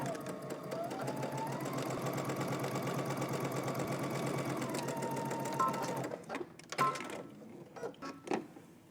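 A sewing machine stitching the seam of a wrap dress, a steady whirring hum for about six seconds that stops, then a few clicks and soft handling noises, close and alone.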